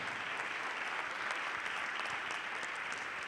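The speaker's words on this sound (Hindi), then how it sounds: "जोरदार तालियों से, जोरदार तालियां" Audience applause at a stage show, dense continuous clapping from a crowd, steady and moderately distant with no talking over it.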